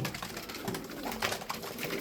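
Soft, low pigeon cooing against a steady, rustling background, close by and continuous for a couple of seconds.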